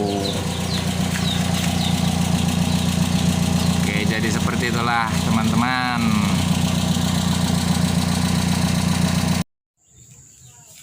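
A petrol car fitted with an HKS-style aftermarket muffler idles loudly and steadily with a deep rumbling exhaust drone, running continuously before cutting off abruptly near the end; a voice speaks over it.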